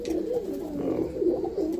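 Roller pigeons in a loft, a young bred bird among them, give soft continuous cooing that rises and falls in close, steady murmurs with no talk over it.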